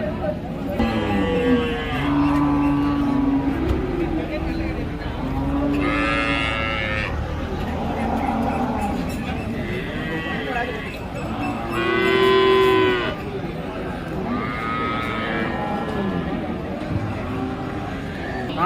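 Several cattle moo loudly and repeatedly at the Melapalayam cow market in Tirunelveli, India, long drawn-out calls rising over a constant background of crowd chatter and bustle.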